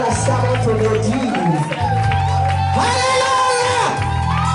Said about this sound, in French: Mettons nos mains ensemble avec des acclamations.